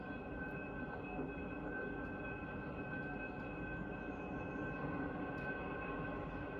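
Steady rumble of a passenger train rolling along, a continuous low roar with a faint high whine running through it, no voices.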